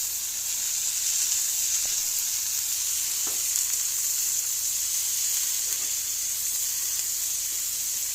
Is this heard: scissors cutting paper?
no